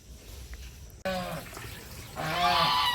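Ducks quack up close: a short burst of calls, a brief pause, then a louder, longer run of quacking.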